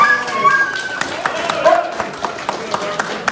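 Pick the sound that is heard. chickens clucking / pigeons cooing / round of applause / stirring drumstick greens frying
round of applause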